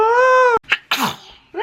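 A child's sneeze bursts out close and loud after a sustained tonal voice, a sharp noisy blast followed by a short breathy tail.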